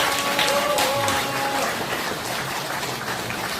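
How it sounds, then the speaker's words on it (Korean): A large audience welcomes guests at a launch ceremony with continuous, dense applause that sounds like rain, and a voice is briefly heard early on. "큰 박수로 여러분이 환영해 주십시오"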